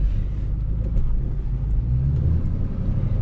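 The tuned 2007 Shelby GT with an aftermarket exhaust gives a steady, loud, deep engine rumble while driving, a low throaty drone heard from inside the car with no talk over it.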